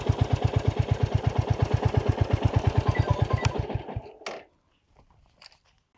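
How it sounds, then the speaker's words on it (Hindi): A Royal Enfield Hunter 350 single-cylinder motorcycle idles close by with a fast, steady thump for about four seconds, then the engine is cut and it falls mostly quiet apart from a few small clicks. "सो ऐसे करेंगे तो बाइक स्टार्ट हो जाएगा"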